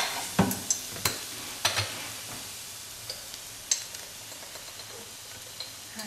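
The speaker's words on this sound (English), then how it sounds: "We're now going to add all the spices, and Aisha will tell us what she's adding as we're putting them in and stirring them in." Ground coriander and other spices being stirred into browned onions in a pan for slow-cooked chicken, with a soft sizzle and several sharp spoon taps and scrapes, close and fairly quiet, no talking.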